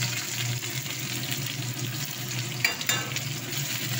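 Onions fry in a pan with a steady, soft sizzle throughout, interrupted briefly by a couple of faint stirring scrapes near the end.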